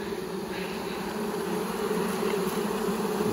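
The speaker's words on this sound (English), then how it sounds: "The bees that's still on this limb." A large honey bee swarm hangs on a tree limb in a backyard, and its dense, steady buzzing holds without a break, loud and close, with no talk over it.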